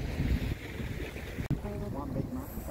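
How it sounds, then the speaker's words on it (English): Wind rushing across a trailer sailboat's sails on open water off the Gold Coast, a steady blustery roar with hull and water noise throughout, loud and close to the microphone. "So you can see the wind is catched in the sails."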